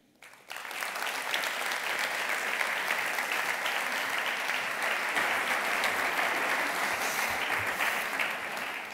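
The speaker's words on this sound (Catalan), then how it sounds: "rebem amb un fort aplaudiment el relator" Strong, sustained audience applause fills a hall at the closing session of a national conference of an independence civil movement, starting abruptly and holding loud and steady throughout.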